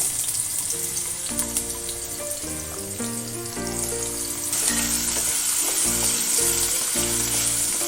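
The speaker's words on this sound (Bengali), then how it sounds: "দিয়ে আলুগুলো একটু ভেজে নেব।" Potatoes frying in a wok with added oil, following mustard-oil frying, a dense continuous sizzle and crackle heard close up beneath steady background music.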